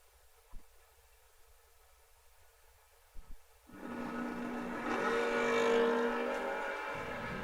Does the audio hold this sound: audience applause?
no